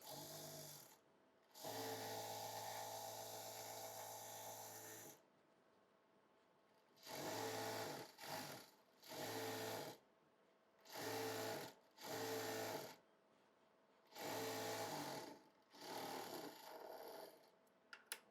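Electric sewing machine stitching a Patiala salwar, a loud, steady mechanical whirr running in long and short bursts separated by pauses.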